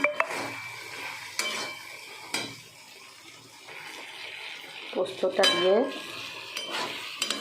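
Potatoes frying with poppy seeds in a pan, stirred slowly, giving a soft sizzle with intermittent spatula scrapes and knocks, while a voice speaks briefly near the end.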